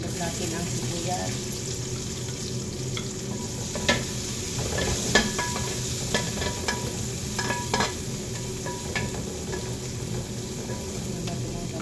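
Onion hits a hot pan already holding garlic and is stir-fried, a steady close sizzle with scraping stirs and occasional sharper clinks of the utensil throughout.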